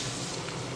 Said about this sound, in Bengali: রসুন বাটাটা একটু ভেজে নিচ্ছি।